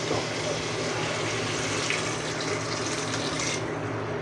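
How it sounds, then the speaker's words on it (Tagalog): Water pours steadily into a pot of chicken adobo made with chicken feet, a continuous rushing splash that holds even and fairly loud from start to finish. "Lalagyan natin siya ng isang basong tubig lang po"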